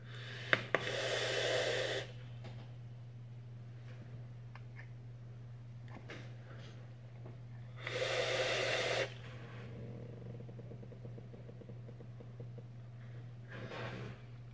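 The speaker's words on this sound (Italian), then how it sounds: "facciamo una prova di svapo, vediamo come rende questo dripper" Two long airy hissing vape draws through a dripper atomizer, each a couple of seconds, over a low constant hum, with faint clicks and breathing between them.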